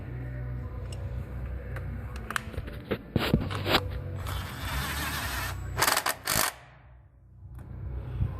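A ratchet tightens the bolt holding a spark plug ignition coil on a 3.3-liter Toyota Sienna engine, giving a run of quiet clicks and metallic scrapes, then a few sharper bursts near the end before it falls silent.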